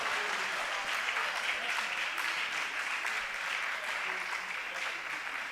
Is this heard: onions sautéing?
no